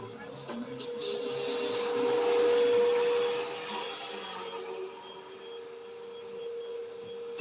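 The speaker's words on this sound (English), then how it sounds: "That's just a vacuum." A vacuum cleaner runs steadily for several seconds with a droning whir and a high whine. It swells a little louder in the middle, then settles back to a constant hum, with no voices over it.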